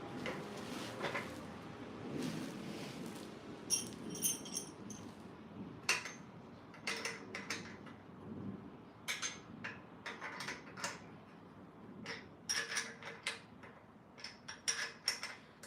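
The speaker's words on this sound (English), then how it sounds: "got both bolts in. Now I just got to tighten it up" Bolts being tightened on a Bongkim pull-up bar during assembly: scattered close metallic ticks, clinks and ratchety clicks in irregular bursts, with handling knocks between, no talk.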